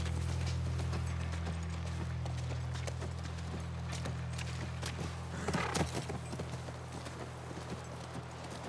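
Horse hooves clip-clop steadily in The Last of Us Part 1, with a low ambient hum beneath and a louder, closer burst of hoofbeats near the end.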